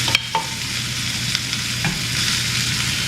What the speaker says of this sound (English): So it's looking like it's about time to flip these burgers.